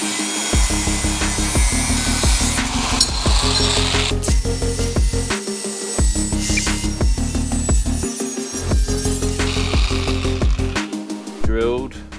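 Galvanized metal part on an off-grid van conversion being cut with a power tool, loud repeated rasping strokes broken by short pauses, with ringing metallic tones throughout.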